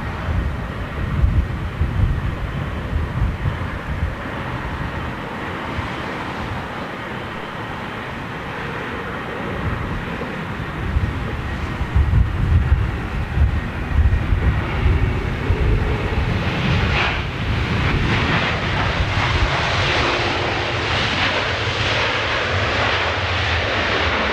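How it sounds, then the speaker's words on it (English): A United Boeing 767 jet airliner passes at an airport, its engines roaring loud and steady for over twenty seconds, swelling to a broader, brighter roar near the end. "Looks like we've got a United 767 in first."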